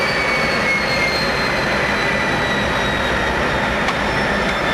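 A Lockheed T-33 jet engine runs with a steady broad roar and a thin high whine that slowly falls in pitch as it spools down toward idle, loud and continuous, with no voices.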